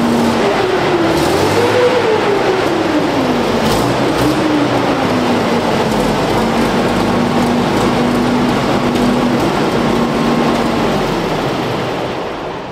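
A Centurion tank's petrol engine runs loud and close as the driver eases off the clutch and it begins to move. A steady heavy roar rises and dips in pitch, then holds level before fading slightly at the end.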